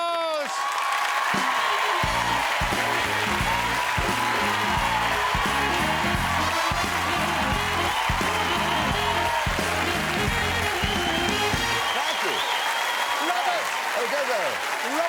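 A studio audience on a TV variety show applauds Bob Monkhouse's entrance with loud, sustained clapping and some cheering, fading out near the end.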